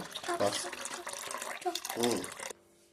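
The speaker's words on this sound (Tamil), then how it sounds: "இதுலேருந்து நீராரத்தை எடுத்து இந்த கத்தாழையில நம்ம ஊற்றிக்கலாம்" Fermented leftover rice water is poured onto aloe vera in a short, close trickle that stops abruptly, with someone speaking over it.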